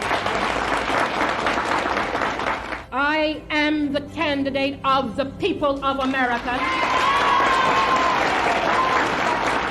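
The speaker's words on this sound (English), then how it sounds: "The crowd erupted in cheers" At a political speech, a crowd claps and cheers loudly, then falls quiet while someone speaks, and the applause surges back strongly and continues to the end.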